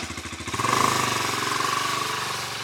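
A Husqvarna 701 motorcycle on its original exhaust thumps at idle, then revs up to a loud, steady drone close by, with no talking.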